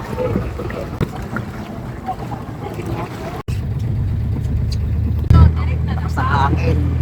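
A boat's motor drones steadily while riding on the water during a Palawan island tour, starting quieter and growing louder and rougher partway through, with a short bump and wind noise over the hum.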